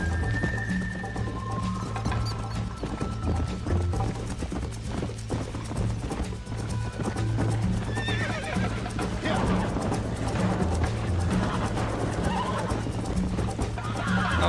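A horse in the video game Red Dead Redemption neighs and whinnies repeatedly over rhythmic clip-clopping hooves, close and fairly loud, with faint game voices in places.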